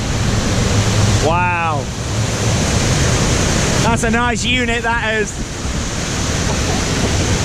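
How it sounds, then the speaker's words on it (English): Waterfalls along a boat ride at Heide Park theme park pour with a loud, steady rushing roar that fills the whole stretch, while someone talks over it. "Oh, look at this waterfall, guys."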